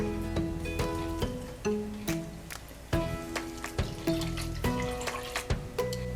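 Water pours steadily into a bowl of salt and sugar for pizza dough, with splashing and trickling, punctuated by a few sharp clinks and knocks, close by and fairly loud.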